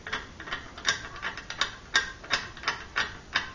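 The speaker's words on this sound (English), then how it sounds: "You'll only need one wrench to tighten this down." A wrench ratchets as bolts are tightened on a 20 ton flat-rate shop press, a series of sharp metallic clicks in an uneven rhythm, close and fairly quiet, with no voices.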